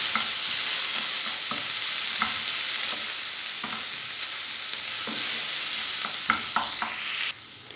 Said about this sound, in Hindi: प्याज को थोड़ा सा सौते करना है।